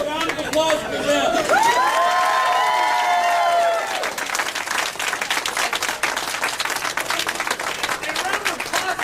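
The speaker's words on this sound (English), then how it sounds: "a round of applause for them" A crowd breaks into applause for a group, with loud massed clapping that carries on steadily to the end. Voices ring out over the first few seconds.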